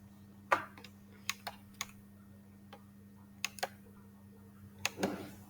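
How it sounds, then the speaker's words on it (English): Keys tapped on a computer keyboard, several sharp separate clicks scattered irregularly against a quiet steady hum, close and fairly soft. "So if we click this and hit the space key, it moves."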